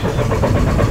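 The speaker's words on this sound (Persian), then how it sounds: "ماشینمون استارت نمیخوره." A car engine cranks but fails to start in one short, dense burst of churning starter and engine noise, close and loud, with no voices over it.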